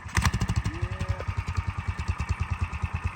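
A big block mini bike engine with a stiff spring and a carburetor running rich idles close by, a loud, steady pulsing chug with a brief rising whine partway through and no talk over it.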